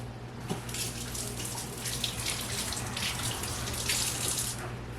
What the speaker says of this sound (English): I'm gonna go wash my hands real fast